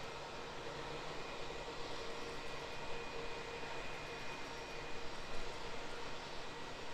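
An Airbus A321 XLR airliner at Auckland Airport produces a steady, moderately loud engine drone, with a faint high whine running through the continuous rumble.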